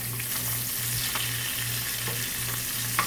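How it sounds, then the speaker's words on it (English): Green peppers and onions sautéing in a hot pan, a steady close sizzle with a low continuous hum and occasional light stirring clicks. "you're gonna saute the green peppers and onions"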